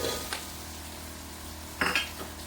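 Multicoloured capsicum (green, red, orange, yellow) being stir-fried in a pan for large-quantity fried rice: a soft steady sizzle with a couple of brief scraping, clinking stirs, the louder one near the end.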